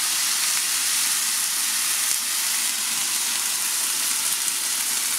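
Water poured onto browned rice and onion in a hot pan, a loud, steady frying sizzle and hissing steam that stays constant throughout, with no talking.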